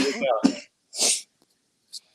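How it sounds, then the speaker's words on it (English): A voice speaks briefly, then a single sharp cough bursts out, followed by a short quiet sniff or breath. "I'm sorry, I got a cough here."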